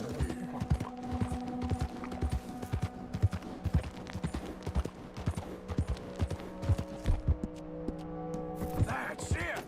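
Horse hooves clip-clop repeatedly in Red Dead Redemption 2, an uneven steady rhythm of moderate hoof strikes over a sustained tonal game backdrop, with a brief whinny-like burst near the end.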